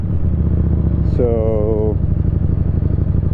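A Harley Davidson Street Rod motorcycle rumbles steadily with a low, close engine throb in downtown Dubai, while someone talks briefly over it.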